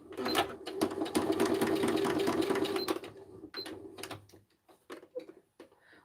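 Sewing machine stitching paper and vellum scrap embellishments, a close rapid mechanical chatter running for about three seconds, then a few short bursts and clicks as the work is adjusted.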